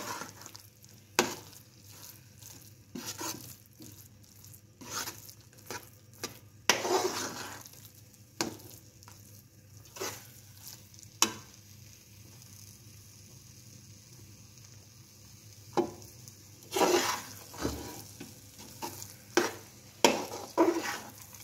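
Pumpkin halwa cooks in a pan with a low sizzle as a spoon scrapes and knocks against the pan in repeated sharp strokes, close and fairly quiet, with no talking.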